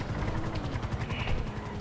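A helicopter in the FiveM video game whirs with a steady, close rotor drone that holds even and loud throughout, with no voices over it.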